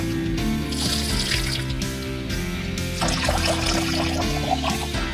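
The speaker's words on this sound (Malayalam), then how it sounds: "അപ്പോഴേക്ക് നമുക്ക് അരി കഴുകി വെക്കാം." Rice is washed under running water, a continuous tap flow splashing and swirling in a vessel at close range, with no talk over it.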